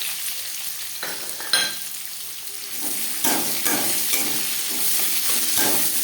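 Chopped onion fries in oil after bay leaf and five-spice tempering, for a Bengali jackfruit and prawn dish; a steady sizzling hiss rises when the onion drops in, with intermittent scraping stirs.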